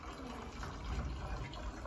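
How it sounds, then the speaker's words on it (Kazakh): Warm water pours steadily into children's drinking bottles, a soft continuous close trickle without pauses or talk. "Балалар, жылы су құйып жатыр, балалар."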